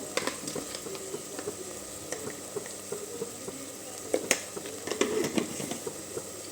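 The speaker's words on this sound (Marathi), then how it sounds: "ही भाजीमध्ये आपण छान सगळा मसाला एकजीव करून घेऊया" Spices being stirred into mixed vegetables frying in a pan for a traditional Makar Sankranti mixed vegetable dish, with a steady soft sizzle and scattered scrapes and clinks of the spoon close by.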